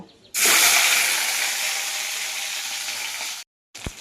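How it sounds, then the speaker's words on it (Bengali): Rohu fish pieces hit hot oil in a kadai, setting off a sudden loud, steady sizzle that holds for about three seconds, breaks off briefly, then returns with a short clatter. "এখন কড়াইয়ে তেল দিয়েছি, তেল গরম হয়ে গেছে। আমি একে একে মাছগুলো"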